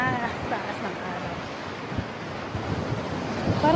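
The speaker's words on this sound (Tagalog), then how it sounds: "Malakas ang alon." Strong sea waves roll and crash along a Brunei shore in the early evening, a loud continuous surf with heavy wind buffeting the microphone, and a person talks over it.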